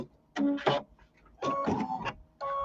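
Sewing machine stitching a pillow, three short close bursts of rapid mechanical whirring separated by quiet pauses.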